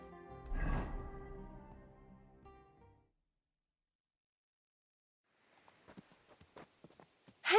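Horse hooves during riding in the video game Kingdom Come Deliverance 2. A tonal passage fades to silence, then a soft, uneven clip-clop of hoofbeats builds at moderate distance and ends in a louder burst.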